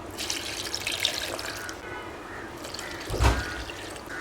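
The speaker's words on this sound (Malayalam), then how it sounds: "രണ്ട് കപ്പ് വെള്ളം ഒഴിച്ചു കൊടുക്കുക" Water pours and trickles softly into a blender jar, ending in a brief louder splash or thud near the end.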